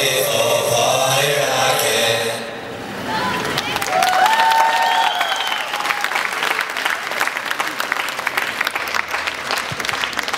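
Audience applause at a Rainbow Team SE dance show on the 2012 Nivea tour in Dunakeszi, a dense, steady wash of clapping that swells after a brief stretch of music and voices and keeps going to the end.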